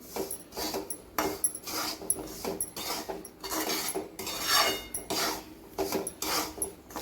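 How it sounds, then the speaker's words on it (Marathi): A spoon scrapes and stirs dry semolina in a pan of tempering while making upma, in steady rhythmic strokes, quiet and close, with no talking. "हे छान मिक्स करून घ्यायचे, सगळं हलवून घ्यायचं"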